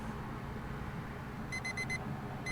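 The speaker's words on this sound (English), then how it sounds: "That's how much I hate alarm sound effects." Alarm in the video game Step Out, a shrill electronic beeping in quick groups of four pulses, repeating after a pause over a steady low background hum.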